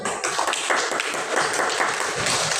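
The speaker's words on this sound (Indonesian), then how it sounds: "Tepuk tangan untuk semuanya." A classroom of students claps together, a steady burst of mixed hand claps lasting a couple of seconds, fairly near with some louder individual claps standing out.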